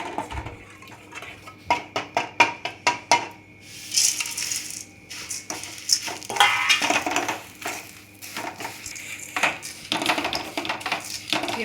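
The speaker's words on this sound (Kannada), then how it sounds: "ಲೋ ಫ್ಲೇಮಲ್ಲೇ ಫ್ರೈ ಮಾಡ್ಕೊಳ್ಳೋಣ." Flattened rice (avalakki) stirred while frying in ghee over a low flame: a spatula scrapes the pan in a run of sharp, crunchy clicks and rattles, then continues as a busier, irregular crackle, close and moderately loud.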